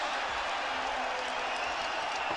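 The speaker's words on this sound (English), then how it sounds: "And the crowd rising to their feet." Basketball arena crowd cheering and applauding as fans rise to their feet, a broad sustained roar of many voices at a steady level, with no clear single voice standing out.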